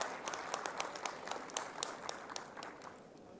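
An audience in a university auditorium claps after an oration, with sharp individual claps standing out over a thinner, loosening round of applause that tapers off.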